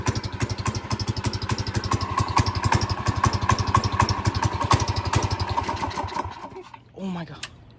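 A 212cc Predator small engine fitted with a stage one kit runs at a steady, loud, rapid putter up close, then cuts out abruptly near the end, leaving brief quiet.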